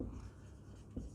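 Marker writing on a board during a Class XII biology lesson on human reproduction and spermatogenesis, a steady soft scraping that runs for about a second with one slightly louder stroke near the end, close by and alone.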